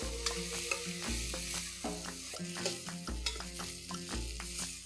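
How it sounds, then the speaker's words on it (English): Chopped onions sauté in melted ghee with a steady, close sizzle, while a spoon stirs them in rhythmic scraping strokes throughout; no voices. "Saute the onions till they turn nice pink and soft."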